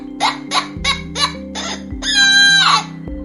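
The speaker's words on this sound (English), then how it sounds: "H-E-N, hen." A hen clucks in a quick series of short, clear calls, then lets out a longer drawn-out squawk, all heard alone and close with a steady low hum beneath.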